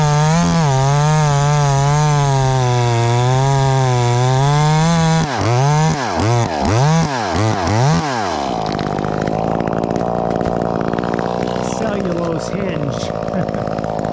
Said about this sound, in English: I'm just gonna back cut this and let it peel off on the punky sapwood.